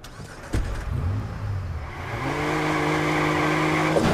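A car in the video game Watch Dogs revs up from a low idle after a sharp knock and then holds a steady, rising engine drone. The engine sounds close and fairly loud, with no speech.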